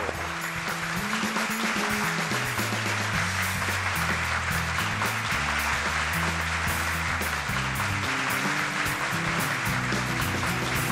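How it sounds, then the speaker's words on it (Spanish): Applause for a contestant on a Cuban television quiz show, a continuous patter of clapping blended under loud, tonal studio music that plays throughout. "Un aplauso para él."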